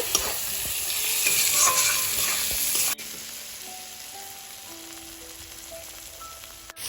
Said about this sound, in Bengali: আলুটা দিয়ে আরো কিছুক্ষণ কষাতে হবে